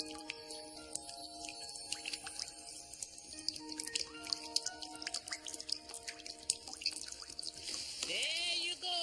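Well water poured onto radishes in a garden, a soft trickling and dripping that runs throughout, quiet and close, under background music.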